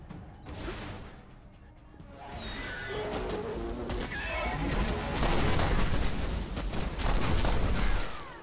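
Shotgun blasts in the sci-fi shooter game Destiny, a few loud booming hits amid dense, chaotic combat noise with whooshes and mechanical clatter, growing louder toward the end.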